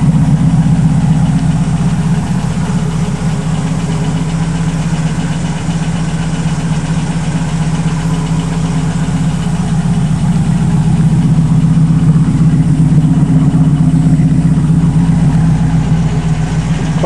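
A TVR Griffith sports car idles after a winter layup, a loud, steady, close burbling rumble from its twin exhaust pipes with a deep, even throb that continues unbroken.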